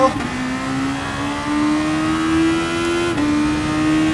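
An 800hp Aston Martin concept car in GT Sport holds a steady, loud high-revving engine drone that climbs slowly in pitch, then briefly dips at a gear shift before settling again, with no talk.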